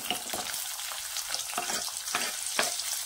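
Finely chopped onion frying in hot oil with bloomed cumin seeds for a simple village-style Bhogi vegetable dish, a steady close sizzle with scraping stir strokes at intervals, alone without talk.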